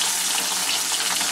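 Water pouring into a mixer jar over tomatoes and a dry spice paste while making a sorshe-style mustard paste for Kolkata pabda fish curry, a steady broadband rushing splash lasting the whole moment, close and fairly loud with no talk.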